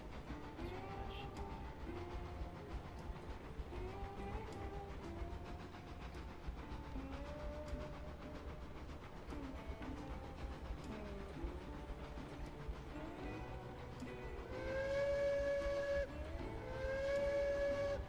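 A train in a railroad video game rolls along the rails with a steady low rumble and faint rhythmic clatter, and a horn-like tone sounds twice near the end.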